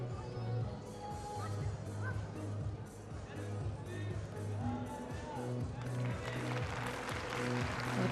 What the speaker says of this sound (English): Crowd cheering him back on.